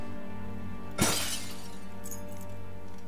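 A book smashed to pieces in the horror game Amnesia: A Father's Worst Fear, one sharp glassy shatter burst over a steady droning ambient background, followed by faint tinkling debris.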